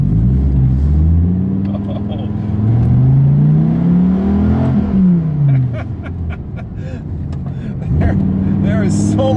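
A 2017 Dodge Viper accelerates hard. Its engine roars loudly up and down through the revs with a heavy rumble, and a voice talks over it.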